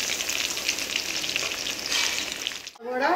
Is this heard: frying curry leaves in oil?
yes